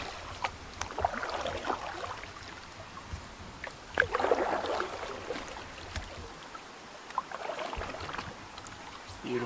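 A canoe on the Steel River being back paddled, with soft intermittent paddle strokes and water swishes spaced a few seconds apart, fairly quiet amid light wind.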